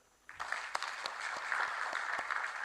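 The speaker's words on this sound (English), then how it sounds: "So why don't you clap for them?" An audience at a regional metrology conference breaks into applause, starting suddenly after a brief quiet moment and building to steady, moderately distant clapping with a few sharp individual claps.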